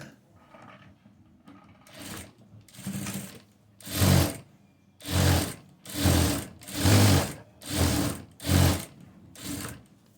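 A sewing machine stitches along a fabric edge in a rhythmic series of about eight loud, close bursts of rapid needle clatter, each lasting under a second and separated by short pauses, with no talk.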